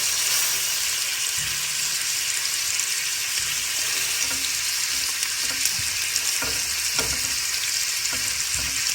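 Sauce with white wine simmering and sizzling in a pan, a loud, steady hiss and bubbling that fills the whole stretch with faint stirring scrapes, no speech.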